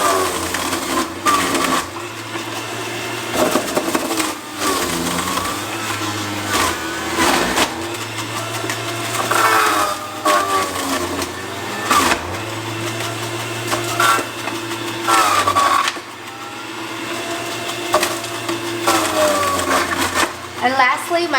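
A Breville Juice Fountain juicer grinds carrots, a loud motor whine that dips and surges as pieces are pushed through, with pauses and a person talking over it at times.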